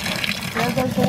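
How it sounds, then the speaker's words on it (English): Water pours and splashes from a faucet while a vacuum is being washed out in a sink, an uneven gushing that comes and goes over about a second, with a voice talking over it. "There goes the water."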